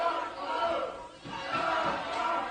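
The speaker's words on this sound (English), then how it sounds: "Listen to the crowd." A wrestling arena crowd in Ohio roars during a WWE WrestleMania match between Brock Lesnar and Batista, a broad, sustained swell of distant cheering and chanting that dips briefly and rises again.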